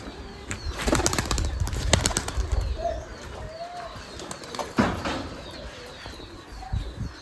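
Giribaz pigeons at a large pigeon farm coo in soft rolling calls while wings flap in several loud bursts nearby, followed by quieter cooing.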